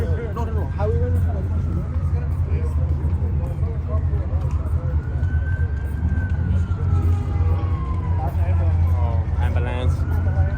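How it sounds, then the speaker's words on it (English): An ambulance siren wails at a car meet, its rising and falling tone sweeping steadily across several seconds over a loud rumble of idling engines and nearby crowd chatter. "Oh, ambulance."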